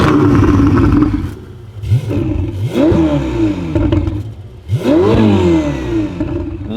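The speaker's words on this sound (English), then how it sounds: "I'm going to start it up and give it a little rev." A Ferrari 488 supercar starts up and is revved, loud close engine roars rising and falling in several sharp bursts with a deep idling rumble between them, no talking.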